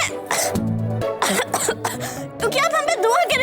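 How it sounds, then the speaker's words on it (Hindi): A woman coughs in a few harsh, throaty bursts with some throat clearing, close and fairly loud, set against dramatic background music in a period television drama. "देखिए कैसे खांस रही हैं।"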